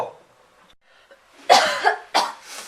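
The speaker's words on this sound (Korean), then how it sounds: "아, 지금 자꾸 기침이 나네" After a quiet stretch, a person coughs three times in close succession, harsh and nearby, the bursts loud and abrupt.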